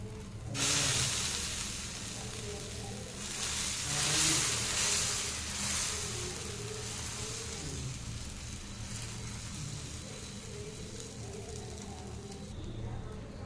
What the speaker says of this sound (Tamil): கல் சூடாயிடுச்சுங்க நம்ம அடை ஊற்றிக்கலாம்